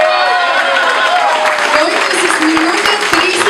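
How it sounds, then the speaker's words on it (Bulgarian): Loud, dense applause from an audience at an awards ceremony, honoring a first-place winner, with an announcer's voice speaking briefly over the steady clapping. "И на първо място искам много бурни аплодисменти за Константин Манчев Триона"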